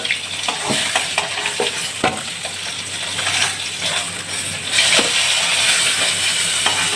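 Oil and whole tempering spices crackling in a wok after fried koi fish is lifted out, a dense loud sizzle with sharp pops and metal scrapes from stirring, swelling louder toward the end.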